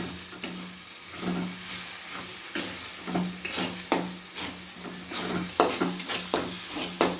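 Egg being stirred with fenugreek greens in a hot frying pan for an egg palya: repeated scraping strokes of a spatula over a steady sizzle, close and moderately loud, with no talking.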